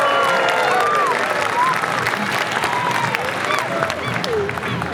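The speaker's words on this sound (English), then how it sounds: "how about another round of applause for those teachers that are here as well?" Loud, dense audience applause and cheering for teachers at an outdoor Christmas tuba concert, a sustained crowd roar of clapping with voices mixed in throughout.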